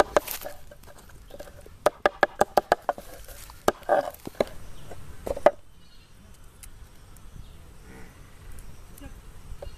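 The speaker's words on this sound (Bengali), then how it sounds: "চিংড়ি মাছটা কেটে নিতে হবে এবার।" A knife cutting prawns on a board, a quick run of sharp, close chops in an uneven rhythm that stop midway, leaving quiet background hiss.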